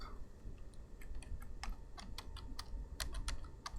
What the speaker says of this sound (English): So let's type some stuff in here.